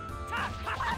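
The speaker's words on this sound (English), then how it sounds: "Why do these ogres sound like this?" Growling ogre enemies in the video game Tales of Symphonia, two short gruff bursts with a bright, nasal, bark-like edge over a steady game background hum.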